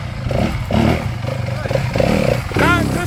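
A 2023 WR 250 dirt bike rides through a tricky trail section, its engine revving and surging in bursts at mid distance while people talk over it.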